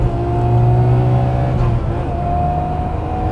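Nissan Skyline GT-R R34 with around 500 horsepower accelerating, a loud, close, steady engine drone with a sustained tonal whine, heard from inside the car with no speech.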